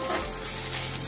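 A pinch of asafoetida hits hot oil while tempering Bengali chholar dal, producing a short, close, continuous crackling sizzle without speech.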